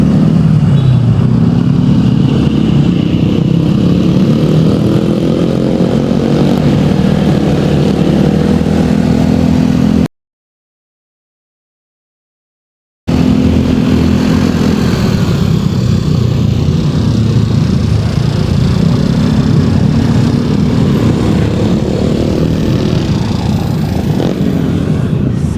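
A Suzuki Nex 2 scooter rides along a road, its small engine droning steadily with road and wind rumble, loud and continuous apart from a short silent gap midway.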